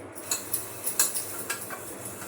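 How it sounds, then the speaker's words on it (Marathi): Light metallic clinks and taps as pots are scrubbed and washed in a home kitchen, a few soft knocks spaced irregularly at close range under faint background hiss, with no talking. "लगेचच घासून मोकळे केलेले बरे"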